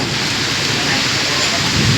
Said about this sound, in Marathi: अवकाळी पाऊस आला रे